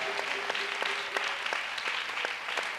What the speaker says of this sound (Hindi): ताली बजा के खुदा के महिमा करें।